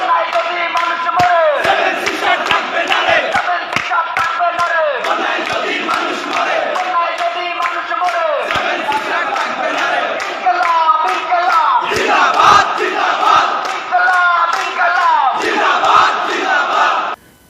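A large crowd at Dhaka University chanting political slogans in loud, rhythmic call-and-response bursts, voices massed close and continuous with brief breaks between phrases.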